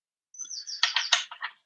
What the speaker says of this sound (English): I can hear the birds in Central Park in the background